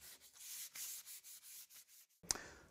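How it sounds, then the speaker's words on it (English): Wood being rubbed down by hand with flexible sandpaper, a close, quiet series of rhythmic scraping strokes, about a dozen, followed by a sharper brief scrape. "I'm actually going to be using a flexible sandpaper"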